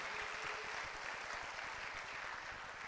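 A church congregation applauding the Lord together, a steady dense wash of clapping that holds evenly from start to finish, fairly faint and distant, with no talk over it.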